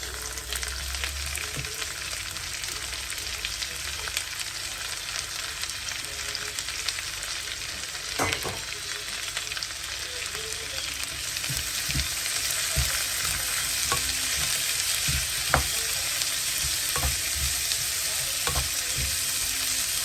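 Chopped onion hits a pan of caramelized garlic and ginger for mushroom butter masala, giving a steady hissing sizzle with scattered utensil scrapes and taps, close and moderate, without voices.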